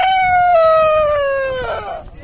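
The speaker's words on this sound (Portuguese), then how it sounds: "Os frangos." A rooster crows loudly and close at an animal fair in Afogados da Ingazeira, Pernambuco, one long drawn-out call that falls in pitch, over a low murmur of crowd noise.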